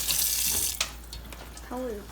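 Kitchen tap running into a sink for a brief rinse of less than a second, a close hissing splash that stops abruptly, followed by a short spoken word.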